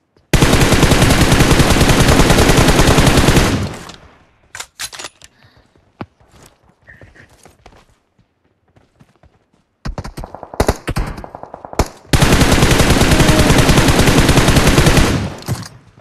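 Video game gunfire comes in two long, dense automatic bursts at the start and end, loud and close, separated by a quieter stretch of scattered clicks and short shots.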